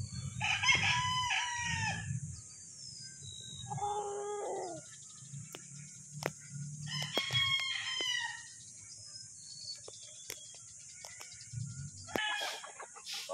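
Butcher gamefowl roosters at a farm crowing repeatedly, several separate crows with short clucks between them, fairly close and clear with no talk.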